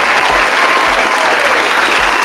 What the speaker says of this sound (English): Give yourselves a hand clap of praise.